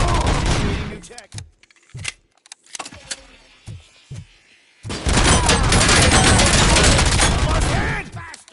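Loud bursts of gunfire ring out in RoboCop: Rogue City, a sustained volley at the start, then scattered sharp single shots, then another long, dense barrage; no one speaks over it.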